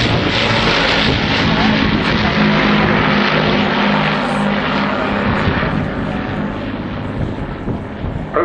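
A WWII Avro Lancaster heavy bomber passes over an airshow, its four-engine propeller drone a loud, continuous, broad roar with wind buffeting throughout and no gaps.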